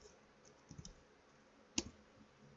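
Someone types a command on a computer keyboard, a few soft scattered keystroke clicks followed by one sharper key press, faint and close in a quiet room.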